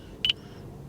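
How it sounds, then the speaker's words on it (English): A single short electronic volume beep from a 2025 Toyota Land Cruiser's system, clear and moderately loud, over a low steady hum of the car interior. "You can hear it's beeping louder or less loud."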